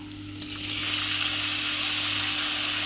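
Tomatoes drop onto browned onions in a hot pan, and a loud, steady sizzle rises within a second and holds close and dense to the end.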